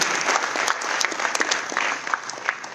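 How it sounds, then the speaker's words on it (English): An audience at a Toastmasters club meeting in Chittagong claps steadily, a dense patter of many hands filling the room, sustained and moderately loud. "a big round of applause, please"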